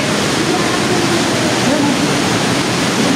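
A strong current of flowing water roars as a continuous, loud broadband rush close by, steady from start to finish.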